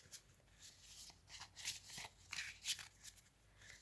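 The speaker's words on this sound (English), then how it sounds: "Let's see how they shuffle." Thin oracle deck cards from an illustrated herbiary set shuffled in the palm, with repeated soft papery swishes and flicks in an irregular rhythm, close and quiet with no talking.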